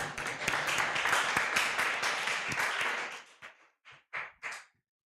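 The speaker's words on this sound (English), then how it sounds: "Round of applause again." Audience applause at a youth event, loud sustained clapping from a crowd that fades out into a few last scattered claps.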